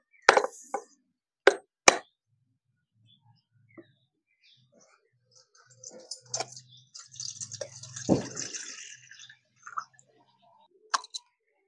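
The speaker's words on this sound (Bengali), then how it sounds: "নারকেলগুলো ফাটিয়ে জলটা আলাদা করে নেব।" Two large coconuts being cracked open and their water drained off, with a few sharp knocks near the start, then a soft trickle and splash of liquid in the middle, then a couple of scattered clicks.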